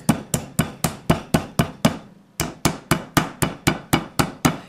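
Chicken cutlets for scaloppine get pounded flat on a board with sharp, evenly spaced whacks, about sixteen heavy thuds with one short pause partway through, close and loud.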